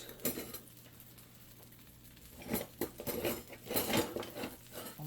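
Metal kitchen utensils clatter and clink in quick bursts as someone rummages through a drawer for a spatula, faint at first and then busier, with no talking.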